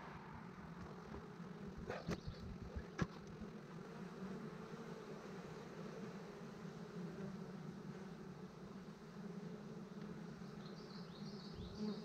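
Honeybees hum around open hives during an inspection, a faint continuous buzz with occasional closer passes, plus a couple of brief knocks from handling the frames.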